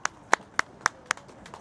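Audience clapping at a summer festival stage show, six or seven sharp, evenly spaced claps, fairly quiet and fading slightly toward the end.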